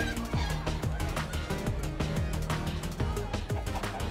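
Blocky chickens cluck in Minecraft: Story Mode, with repeated short clucks over a busy backdrop of game music and ambient sound.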